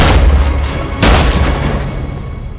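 A gunshot in a heist getaway film scene, a single loud booming blast about a second in, over dense rumbling action noise and sound effects.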